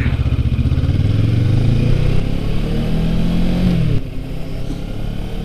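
Kawasaki Ninja 650r motorcycle engine pulling hard as the rider accelerates, a loud, buzzing mid-pitched drone with revs climbing, then a drop as the throttle eases near the end, with wind rush throughout.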